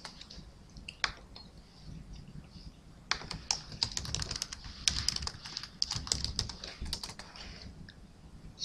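A username and password typed on a computer keyboard, with sparse keystrokes at first, then a dense run of quick clicky taps, close and fairly soft, no speech.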